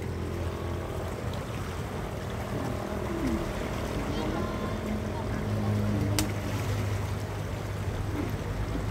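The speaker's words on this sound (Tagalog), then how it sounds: "Lakas ng agos oh." Strong current rushing through drainage culverts near a bridge, a steady broad wash of flowing water with low rumble running throughout, with voices talking over it.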